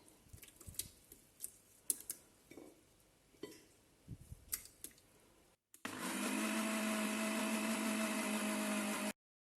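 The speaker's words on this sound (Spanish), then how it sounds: "Esto vamos a licuarlo con el limón." An electric kitchen blender whirs loudly and steadily for about three seconds, blending leftover fish scraps with lime juice for Peruvian ceviche, after scattered clinks and knocks of kitchen handling.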